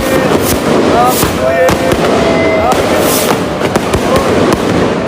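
New Year fireworks and firecrackers bang repeatedly in sharp, loud bursts and crackles, one after another, while people shout and cheer among them.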